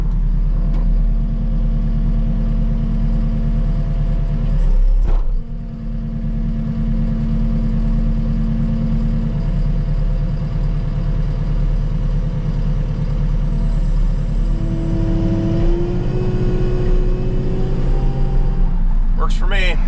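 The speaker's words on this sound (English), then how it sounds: "I got the motor all put back together on the mower now." A repaired lawn mower motor runs steadily nearby with a droning engine hum and shifting tonal whine, loud and continuous, while someone talks over it.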